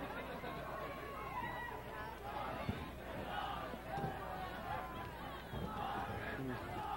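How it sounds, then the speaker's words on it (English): A festive crowd of De La Salle soccer fans at a night high school match against Monte Vista, a distant continuous roar of cheering and babble with scattered shouts and no clear break. "Hear this very festive crowd here tonight"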